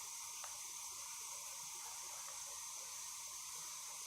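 Water runs from a shower tap as a faint, steady hiss heard from a distance, with a few small knocks and no talking.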